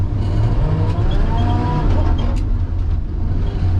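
A 1979 Ford F-350 truck with a straight-axle front end idles roughly, its engine running out of tune. The low, uneven rumble stays steady and close for the whole stretch, with no talking.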